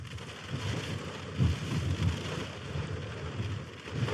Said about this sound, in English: and I think it's snowing